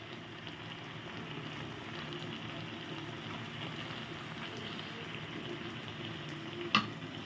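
Carrot halwa cooks in ghee with condensed milk, giving a soft, even frying sizzle that holds steady throughout, with a single brief clink of a utensil near the end.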